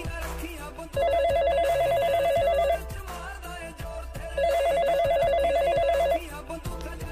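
A telephone rings in two long electronic bursts separated by a short pause, loud and close over a low background hum, with no one talking.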